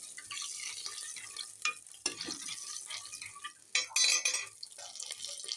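Red chillies sautéed in oil in a clay pot for sambar, giving a faint, steady sizzle with occasional light clinks and scrapes of stirring.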